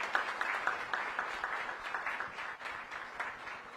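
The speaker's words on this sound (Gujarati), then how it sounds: "માટે તાળીઓનો એક ગડગડાટ થઈ જાય" An audience at a Gujarat Law Society centenary celebration in Ahmedabad gives a sustained round of applause, many hands clapping in a dense, even wash heard from a moderate distance that eases slightly toward the end.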